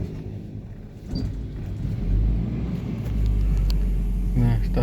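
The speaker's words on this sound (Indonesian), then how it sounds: "Kita hidupin mesinnya." A 1997 Toyota Kijang Krista engine cranks and catches, settling into a steady low idle rumble that swells louder partway through, with a brief voice heard near the start.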